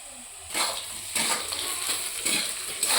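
A spoon stirs potatoes into chicken in a pot, giving repeated scraping, stirring strokes over a steady sizzle, with no one talking.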